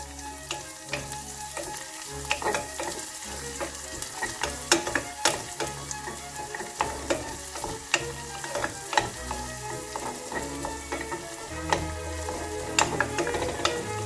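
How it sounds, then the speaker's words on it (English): Generous butter melting in a pan for a lemon butter cream sauce sizzles and crackles steadily, with frequent sharp pops over a continuous frying hiss. "Let your butter melt."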